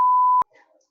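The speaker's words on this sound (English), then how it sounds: "I'll beep it out." A single loud censor beep, a pure steady tone lasting under half a second and cut off abruptly, followed by faint low murmuring.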